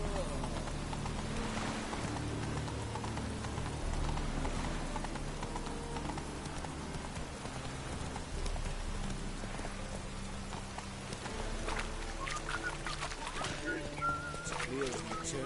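Horse hooves clip-clop steadily in The Witcher 3, a continuous rhythmic trot mixed with ambient game sounds and faint rain-like hiss, with a voice speaking briefly over it.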